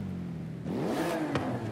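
A V6 car engine with stock exhaust in Forza Horizon 5 idles low, then revs sharply upward in one quick blip and settles, close and clear with no talk.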